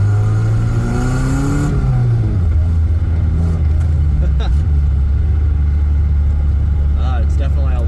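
Engine of a Toyota TE72 wagon with a five-speed manual swap, rising and falling in pitch as it revs through a downshift, a steady loud drone close by in the cabin throughout.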